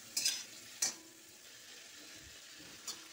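Prawns and spices frying in a pan for shapla chingri with water lily stems, stirred with a utensil. A soft continuous sizzle runs under a few sharp stirring scrapes, close and fairly quiet.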